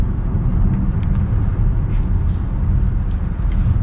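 Inside a 2022 BMW X5 sDrive40i during mild acceleration on the road, a steady low engine and road rumble fills the cabin evenly throughout, with no talking.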